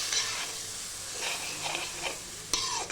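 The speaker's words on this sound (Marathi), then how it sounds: "आता ते मिरचीमध्ये चांगलं फ्राय करते" A paste of green chilli, garlic and salt fries in oil for methi mutton, giving a soft, continuous sizzle with a few scraping stirs and a sharp clink of a utensil, with no talk.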